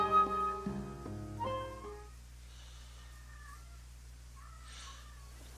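A cat in the video game Octopath Traveler meows several times in quick succession, a clear, close, tonal cry over a steady low game hum, then fades into quieter ambient sounds with a faint trill or two near the end.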